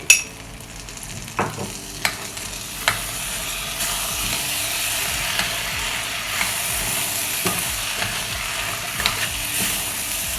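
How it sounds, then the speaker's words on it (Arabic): Rice sizzles steadily in a hot pan while being stir-fried with a ketchup, soy sauce and spice mixture, with scraping and clanking of the utensil against the pan in irregular strokes, close and continuous, no talking. "هنزل بيها واقلب بقى شوح الرز بتاعي"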